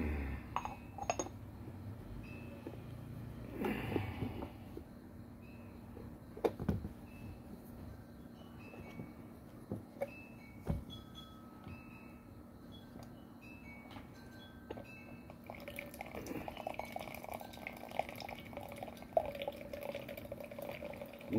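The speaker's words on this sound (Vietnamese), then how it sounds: "đổ nước vào mình rót ra ngay" Water trickles and splashes softly over tea leaves in a ceramic teaware set, with faint clinks of cups and pots and scattered drips, quiet and close, then a fuller pour near the end.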